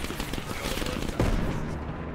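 Rapid automatic gunfire in a Call of Duty Cold War side mission, loud and continuous bursts across the whole moment, with a heavier blast partway through.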